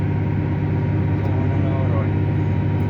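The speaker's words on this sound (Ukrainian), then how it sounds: "Ось такий тракторюга" A large tractor ploughing a field of daikon green-manure cover crop with a Lemken Eurodiamant 10 plough, its engine a loud, steady low rumble throughout, close to the microphone.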